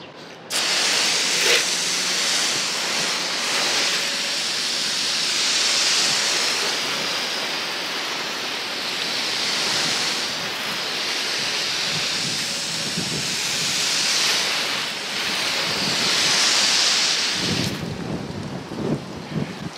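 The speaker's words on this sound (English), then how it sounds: "So you can see the water is beating up pretty good." Water sprays hard onto a car windshield coated with Gtechniq G1 Clear-Vision Smart Glass, a loud, steady hiss with slow surges and falls that cuts off abruptly near the end.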